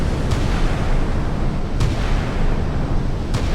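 Naval gunfire from warships in the Sea Power game, Chinese and Taiwanese vessels exchanging radar-laid fire, forms a dense, steady rumble broken by three sharp reports spaced about a second and a half apart.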